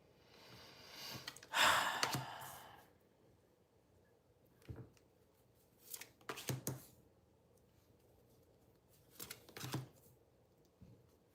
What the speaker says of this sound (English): I need to get a good shuffle on these cards.